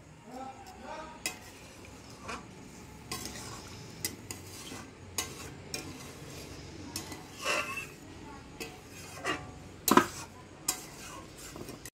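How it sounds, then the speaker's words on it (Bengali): Fennel chicken cooking in a pan as water is added after frying down the spices, heard as scattered metal clinks and scraping stirs with a brief louder splash-like burst, close and moderately loud, no voices. "এবার আমি একটু জল দিয়ে দিই"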